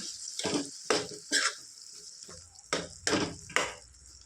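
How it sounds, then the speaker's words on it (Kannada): Ground masala paste fries in a pan for drumstick chops, stirred in rhythmic bursts: about seven loud, close scraping strokes over a softer sizzle, with short pauses between them. "ಮಿಕ್ಸ್ ಮಾಡಿಕೊಂಡೇ ಫ್ರೈ ಮಾಡ್ಕೊಳ್ಳೋಣ"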